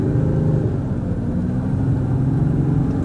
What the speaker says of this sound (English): I'm gonna give it some throttle here.